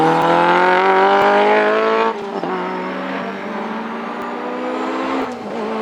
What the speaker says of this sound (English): Phil's ADR3 runs a 2 litre Honda VTEC K20 unit with over 240 brake horsepower available on fuel injection.